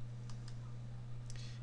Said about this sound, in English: So I'm just gonna click Next